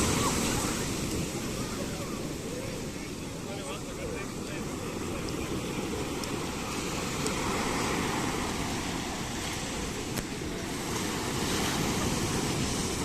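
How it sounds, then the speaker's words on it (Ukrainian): Ocean waves crash and roll continuously at Puerto de Santiago, Tenerife, with wind buffeting the microphone, a broad, steady surf roar throughout. "Ось яка хвиля."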